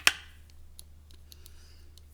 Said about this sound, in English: the best tool to use for this particular job is the scissors, because you can just simply cut through that endoskeleton fairly nicely